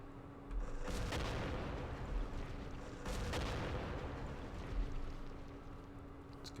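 Gunfire in the wargame Campaign Series West Front, set at Aachen on the West Wall: a dense, rumbling roll of shots and booms plays continuously, with two heavier surges about two seconds apart, fairly faint overall.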